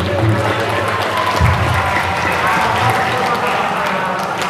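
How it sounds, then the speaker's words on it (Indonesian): Loud, dense applause for a group of children at a gathering, a continuous wash of clapping that stays busy the whole time, mixed with crowd voices and background noise. "Tepuk tangan untuk anak-anakku semuanya"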